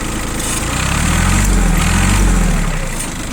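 A Kubota mini tractor engine idles steadily close by, a low, smooth continuous rumble holding the same level throughout with no speech.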